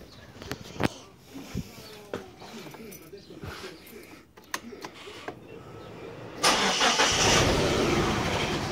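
A Mitsubishi Galant's 4G67 engine, suspected of bad coils and a misfiring cylinder, is cranked with scattered clicks and knocks before catching and settling into a loud, steady running roar near the end.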